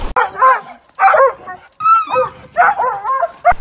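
Several dogs bark and yip excitedly before a morning run, bursts of loud, close barks in quick clusters with brief gaps, mixed with higher whiny yelps.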